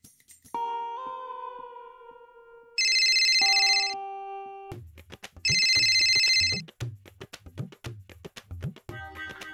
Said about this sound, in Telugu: మళ్ళా బమ్మం బావ ఎందుకో ఫోన్ చేస్తాడు చెప్పు.